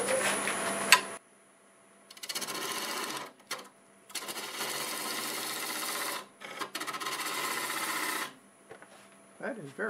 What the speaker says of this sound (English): I think I'll just use the 1/2-inch bowl gouge now.